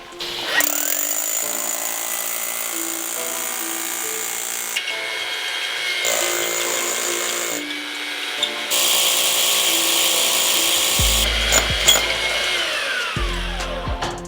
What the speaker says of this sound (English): this one is a 5/8 concrete drill that's a rebar buster as well